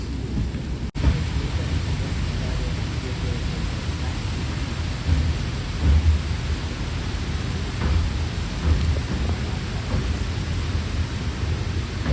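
Steady rain pours outside a moving Karwar Express train between Mangaluru and Yesvantpur, a dense, even hiss with a low rumble beneath and one brief click near the start.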